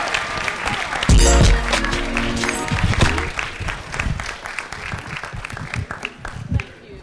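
An audience at a hip-hop youth summit forum applauds after a performance, with a loud burst of clapping and cheering early on that thins out while voices talk over the crowd.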